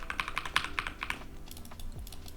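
Computer keyboard keys tap quickly and steadily, arrow keys and WASD pressed to move blocks while building a tank in Trailmakers, with game sounds faint underneath.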